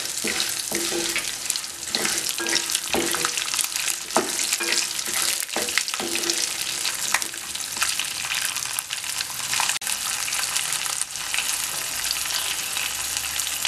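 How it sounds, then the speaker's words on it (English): Green chili sizzles and fries steadily in hot oil in a pan while tamarind rice is cooked, a constant loud crackle with occasional sharper pops and stirring scrapes. "Now add green chili."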